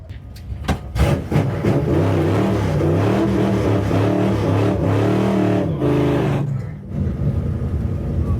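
Drag race car accelerating hard in third gear at Big Sky Race Week in Montana, a loud close engine roar with rising pitch sweeps sustained for several seconds, then easing off.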